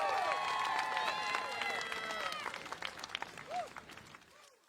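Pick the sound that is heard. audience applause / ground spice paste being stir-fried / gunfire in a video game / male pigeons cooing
audience applause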